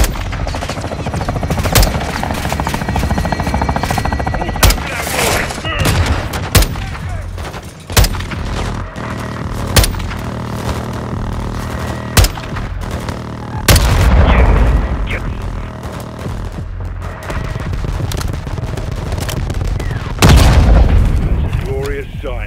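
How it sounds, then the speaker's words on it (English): Air strike explosions hit a building in the Call of Duty Modern Warfare II campaign, with repeated heavy booms and rattling gunfire layered over a constant rumble, while voices talk over the barrage. "7-6, hit that building, but don't level it. 4-1, call for fire."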